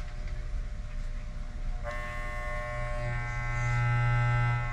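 A freshly cleaned and oiled pair of electric hair clippers for grooming a pet switches on after a quiet moment and runs with a steady, close buzzing hum.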